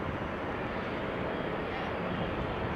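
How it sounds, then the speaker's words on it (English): A Cargolux Boeing 747 takes off and climbs out from runway 24 at Amsterdam Schiphol. Its broad steady jet roar comes from a distance, constant and unbroken, with no talking. "Meanwhile, Cargo Lux 747 is taking off to Luxembourg from runway 24."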